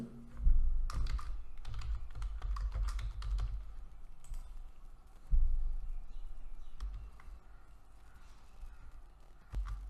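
Email and password typed on a computer keyboard, heard as close bursts of rapid key clicks, a busy flurry early on, then a pause and a shorter second run, with no talking.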